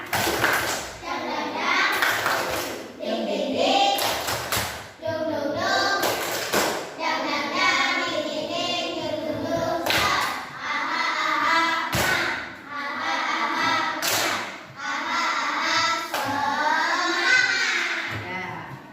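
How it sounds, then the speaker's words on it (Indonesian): A fifth-grade class at SD Negeri 1 Pesuningan performs a rhythmic spirit clap, sharp claps in patterned bursts alternating with children chanting in unison. "mari kita tepuk semangat dulu ya"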